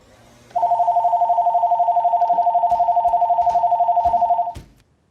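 A telephone rings in one loud, continuous electronic trill lasting about four seconds, with a fast warbling pulse, then cuts off abruptly against a quiet room.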